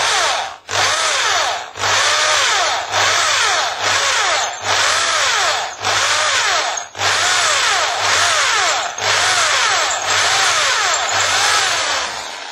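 A power drill bores slowly through the thin steel tail of a mortice lock bolt, running in steady loud bursts with brief pauses between about ten pushes, a grinding whine throughout.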